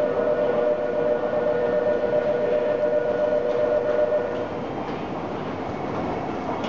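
An E233-1000 series Keihin-Tohoku Line train rumbles into Ueno Station on a snowy day, with a steady tonal hum that fades as it slows, amid broad platform noise.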